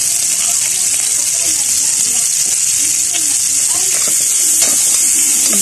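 Meat for humba sizzles loudly and steadily in a frying pan, a close, dense crackling hiss that fills the whole stretch while a voice talks underneath.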